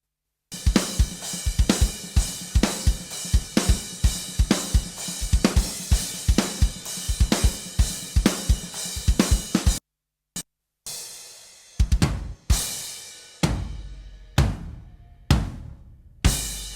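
Dry, unprocessed drums from a metal mix hit in a fast steady pattern of punchy kicks and snare, then drop out to a few isolated hits and tom strikes with ringing decays.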